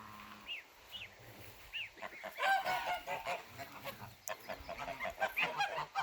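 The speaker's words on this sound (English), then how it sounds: "Hi, geese." Geese honking repeatedly nearby on a farm, in short bursts, with some quieter rustling and soft sounds between calls.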